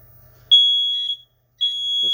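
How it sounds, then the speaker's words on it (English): A smoke alarm in a 2021 Forest River Alpha Wolf 26RL-L RV, set off by the fireplace, gives two long piercing electronic beeps close by, separated by a brief gap. "That's the smoke alarm."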